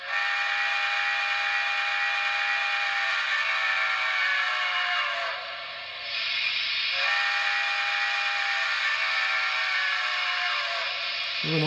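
A Broadway Limited brass UP 4-12-2 model steam locomotive whistle blows in two long, loud, sustained blasts separated by a short break, with a steady hiss underneath.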